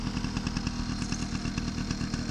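A 1978 Honda Express NC50 moped engine idles with a steady, rapid putter and faint rattling, heard up close with no voices.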